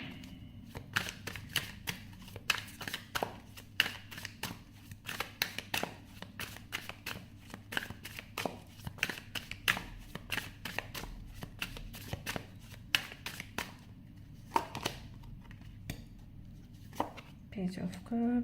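Tarot cards being shuffled by hand, a long run of crisp riffling bursts and taps at close range, irregular in rhythm, with quiet speech in the background.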